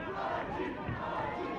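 Fight night boxing crowd roaring and cheering for the boxer Archie, a dense, loud, continuous wall of voices with no breaks.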